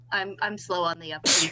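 A single sharp sneeze bursts out at the end of a brief stretch of a person talking, close and loud.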